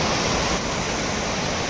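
A waterfall roars as steady, broadband rushing water, loud and close, with no voices over it.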